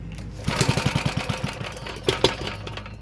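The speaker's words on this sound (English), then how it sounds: "a little bit of a weird little backfire there" A 1952 Moto-Mower Moto-Boy small engine sputtering as it tries to start, a quick run of chugging pulses followed by a sharp pop and crackle of backfire, close and fairly loud.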